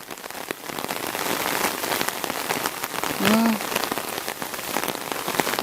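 Steady rain pours down outdoors onto a garden and a parked car, a dense even hiss with one brief tonal whoop partway through and no talking.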